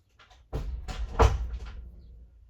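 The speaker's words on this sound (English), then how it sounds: "that was my daughter shutting her door with a big bang" A bedroom door in a house is shut with a bang, heard as a sharp thud followed by a rattling knock and short echo, fairly loud and close, with no talk.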